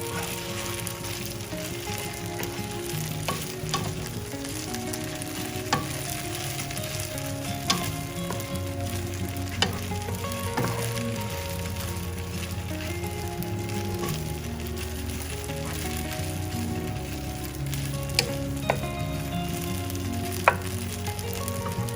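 Pieces of idli frying in ghee in a pan while being stirred give a steady low sizzle throughout, broken by occasional light scrapes and clicks of a spoon against the pan, with no talking.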